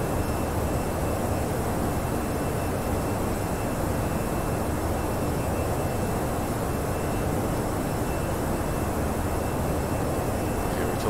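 Exterior engine sound of the Aerosoft Airbus A321 Pro in the Prepar3D v4 flight simulator during climb, a steady, loud jet roar with a constant whine, unchanging throughout.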